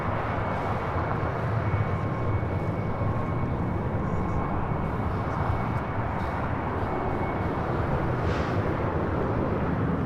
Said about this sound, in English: Aeromexico, the Dreamliner, next heavy departure here on the south side.